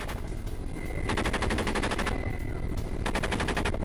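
Sustained rapid automatic gunfire aimed at a drone boat in two long bursts, loud and rattling, with a brief pause between them and no voices.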